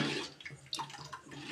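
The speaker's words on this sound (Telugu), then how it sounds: "చింతపండు, కారం మిక్స్ చేసి వాటర్ దాంట్లో పోస్తుంది ఫ్రెండ్స్" A tamarind and chili mixture poured into water in a kitchen pot, a short, close splashing pour with uneven gurgles.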